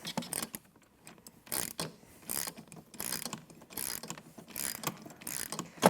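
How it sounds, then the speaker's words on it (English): A nylock bolt is tightened with a ratcheting tool on a wooden-post Studio Reformer frame, giving repeated quick ratchet clicks in bursts across the whole stretch, close and moderately loud, with no talking. "then I'm going to tighten the nylock bolt"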